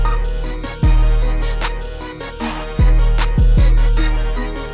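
Hip hop beat in the glo style with the melody's low end left uncut: a bright looping melody over booming 808 bass hits that slide down in pitch, loud and dense, with no voice.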